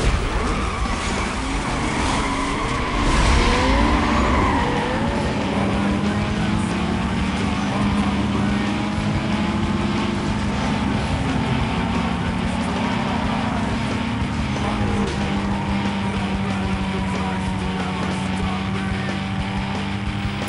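Engine of a Toyota Supra SZ-R in a Need for Speed: Most Wanted sprint race roars steadily and loudly throughout, its pitch rising and falling with gear changes, with a voice talking over it.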